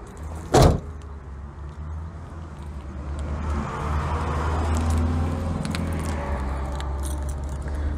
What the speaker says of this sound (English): So we'll always shut that door first before shutting this door.